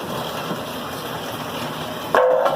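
A Brunswick bowling pinsetter turret runs in a garage with a steady mechanical whir, then a sharp clunk as it stops and a louder tonal whine as it begins spinning.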